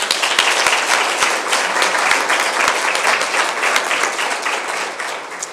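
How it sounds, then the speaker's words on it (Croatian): Conference audience at a business sustainability event breaks into sustained applause, thick and continuous with a few sharper claps standing out, tapering slightly toward the end; no talking. "Jedan zasluženi aplauz."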